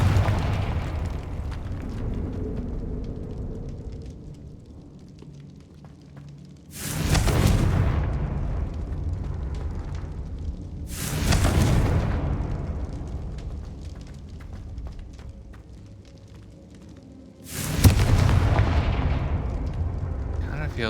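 Three heavy Confringo fire spell explosions in Hogwarts Legacy, evenly spaced booming blasts with a crackling decay, over an ambient game background.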